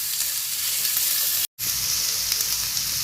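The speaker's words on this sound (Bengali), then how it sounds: "এখন এখানে আমি 1 কাপ পরিমাণ পেঁয়াজ কুচি দিয়ে দেব এবং এই পেঁয়াজ কুচিগুলো আগে আমি 2 মিনিট ধরে নেড়ে নেব।" Chopped onion, about a cupful, stirred and fried in a pan for a chicken bun filling, giving a steady loud sizzle throughout with a brief silent gap midway.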